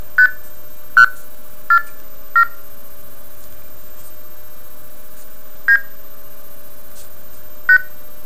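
Sharp, clean multi-frequency signalling beeps from a blue box in R2 or MFC mode, about six short tones spaced irregularly over quiet background, each a brief two-tone chirp.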